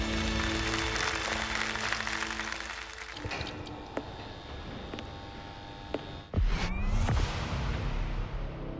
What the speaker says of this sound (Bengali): জোরে হাততালির মাধ্যমে স্বাগত জানাই ওভেন ইলেকট্রিক।